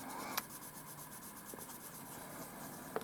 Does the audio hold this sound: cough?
no